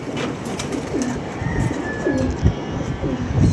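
Several pigeons give repeated low coos close by, a few soft calls in quick succession over constant background hum at a pigeon loft where the birds are being sold.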